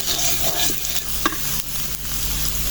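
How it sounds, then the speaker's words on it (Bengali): Potatoes and onion frying in a pan, a dense, continuous close sizzle with scraping stirs and a faint low hum underneath, no voices. "আলু আর পেঁয়াজটা প্রায় ভাজা হয়ে গেছে"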